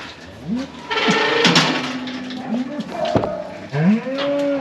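Farm cattle moo loudly at housing time on a farm, several drawn-out, close lowing calls that rise and fall with brief pauses between them, over faint barn background noise.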